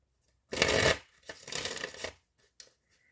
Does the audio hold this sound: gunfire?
no